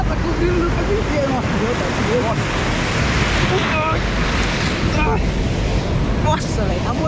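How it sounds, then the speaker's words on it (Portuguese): Large ocean waves in frigid water crash and wash in a continuous, loud roar with wind noise, while voices murmur faintly underneath. "olha o tamanho daquelas ondas, mano. Olha lá, tá cobrindo o tempo inteiro."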